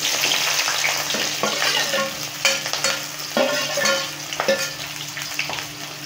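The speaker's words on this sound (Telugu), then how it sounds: "స్టవ్ వెలిగించి బాండ్లీ పెట్టి ఆయిల్ వేసుకున్నాం. ఇప్పుడు కట్ చేసినటువంటి ఆనియన్ వేసుకున్నాం." Chopped onions frying in hot oil in a pan on the stove for a chicken fry dish, a steady close sizzle with intermittent scraping and stirring clatter throughout.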